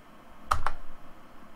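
Two sharp key presses tap on a computer keyboard in quick succession, crisp and close, followed by faint low rumble.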